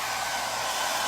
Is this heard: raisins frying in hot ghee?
no